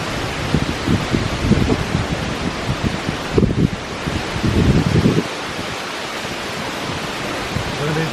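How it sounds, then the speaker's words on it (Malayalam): Strong wind gusts buffet the microphone outdoors beside an open cooking fire, coming in loud rough bursts that rise and fall, with a short lull partway through. "ഭയങ്കര കാറ്റാ."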